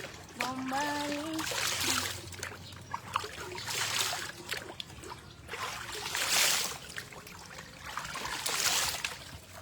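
Water is poured over someone bathing in several separate splashing bursts, each a loud, close gush that trails into dripping, with a brief vocal sound at the start.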